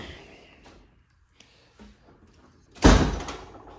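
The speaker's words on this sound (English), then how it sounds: "this is the only drawer on this box that sounds like the Slammer" A tool box drawer slams shut with one loud, sharp metallic bang after a stretch of quiet handling and faint rustling, a heavy close impact that rings out briefly.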